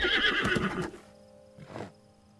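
A horse whinnies loudly in Zelda: Breath of the Wild, a shrill neigh followed by a short fainter snort and quiet game ambience.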